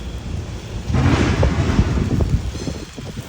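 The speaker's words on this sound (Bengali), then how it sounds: "ভাবলাম তোমাদের সঙ্গে একটু শেয়ার করি কি পরিমাণে বৃষ্টি হতেছে" Rain pours down with gusty wind buffeting the microphone, swelling louder after the first second into a dense, rumbling downpour.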